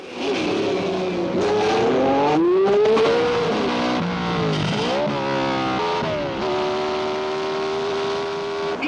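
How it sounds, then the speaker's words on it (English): A red Ferrari race car screams through the streets of Monte Carlo during the 1966 Grand Prix, its engine loud and close, rising and falling through gear changes as it laps a slower car, with other engines blending in behind. "he's just lapping a slower car. That can be tricky here at Monte Carlo."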